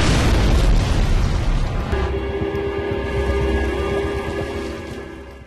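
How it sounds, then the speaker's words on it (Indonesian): A boat suddenly blows up in a cartoon: a loud, rumbling explosion bursts at the start and rolls on with a sustained roar that slowly fades over several seconds, with no talk. "perahu itu justru meledak secara tiba-tiba"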